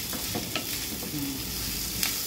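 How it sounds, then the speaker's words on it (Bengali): Onions frying in a pan for a Bengali banana-flower curry (mochar ghonto) give a steady, close hiss of oil, dotted with a few soft stirring scrapes and pops, with no talking. "পেঁয়াজটা খুব লাল হবে না, তো একটু আটকাটা মতন ভাজা হবে"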